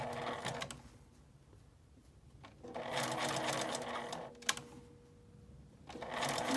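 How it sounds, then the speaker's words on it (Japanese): A sewing machine stitches the curved edge of a fabric L-shaped zipper pouch, running in steady bursts that stop and restart several times, with quiet pauses between the runs. "カーブのとこは少しずつミシンを止めながら縫っていきます。"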